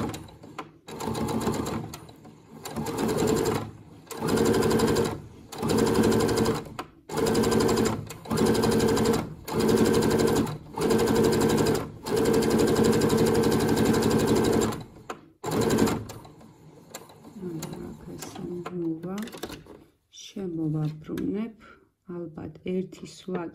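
A sewing machine stitches a seam through thick fabric in repeated loud bursts of rapid needle rattle separated by short pauses, followed by softer handling noises, with a voice talking in between.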